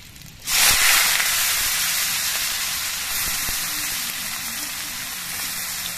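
Boiled cauliflower stems drop into hot oil with fried mustard seeds and green chilli, setting off a sudden loud hiss after half a second that holds steady and dense to the end, with no talking.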